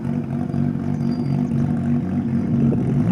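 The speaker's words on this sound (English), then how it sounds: "I swear it sounds like a GT car." Time attack R34 Nissan GT-R entering the pits at a private race track in Japan, its engine giving a steady, fairly close low rumble with slight rises in revs, alone without talk.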